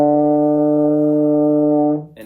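A baritone horn sustains one steady, rich note with a correct lip buzz, loud and close, holding evenly for about two seconds before cutting off.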